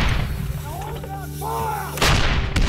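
Artillery fires in heavy, booming blasts during a Korean War battle at Kapyong, with a sharp report near the end over a rumbling background.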